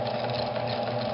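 A Japanese-made Bradford sewing machine runs quietly and steadily, a smooth continuous mechanical hum and whir with no pauses and no voices over it.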